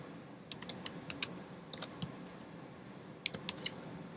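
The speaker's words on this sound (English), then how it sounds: "I'm going to just type right in here in the element itself" Close, crisp keystrokes on a computer keyboard, typed in short irregular clusters with pauses between them in a quiet room.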